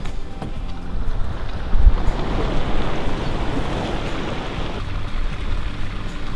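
Roiling water at Churning Cauldron, a thermal feature in Yellowstone, churns in a continuous broad rush, with some wind buffeting the microphone and a brief low bump partway through.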